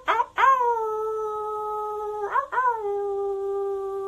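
People give long sustained howls imitating wolves at the close of a group rising meditation: two drawn-out voiced howls, each starting with a rising yelp and holding a steady tone for over a second, loud and close.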